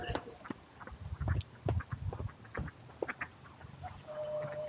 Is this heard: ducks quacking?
yes